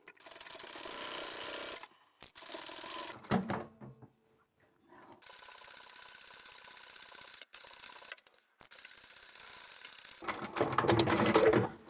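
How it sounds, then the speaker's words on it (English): A sewing machine stitches fabric in several short runs of rapid mechanical whirring, separated by brief pauses and quiet handling clicks, ending in a louder, faster burst. "Now we can sew from here all the way down this end and from this side all the way down as well."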